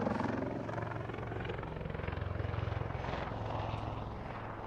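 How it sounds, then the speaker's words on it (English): Wildcat and Lynx helicopters fly at an RAF Waddington airshow, a steady distant rotor thrum and engine roar with slow pulsing chop, no voices over it. "You can see the Wildcat climbing, conducting a cyclic climb with the Lynx conducting a wing over"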